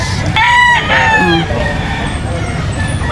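A yellow-legged Golden Boy sweater gamecock stag crows once, loud and close, its harmonic call rising and falling over a short stretch before fading into background murmur.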